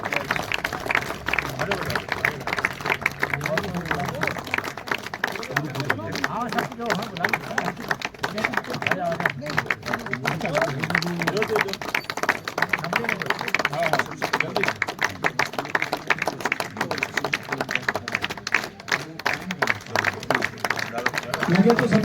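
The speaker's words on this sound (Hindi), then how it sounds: "तो जोरदार तालियां हो जाए।" An audience at a Sindhi literary programme in Ladakh claps for a long stretch, a busy patter of hands with crowd murmur and voices talking through it.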